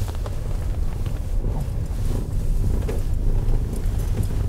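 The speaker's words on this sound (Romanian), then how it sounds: "deja începe să adie vântul" Steady wind rumbling and buffeting against the microphone outdoors, a continuous low roar with no talking.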